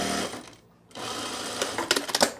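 A sewing machine stitches the sides of a lining in rapid whirring bursts, pausing briefly after the first half second before running again with a few louder clicking stops near the end.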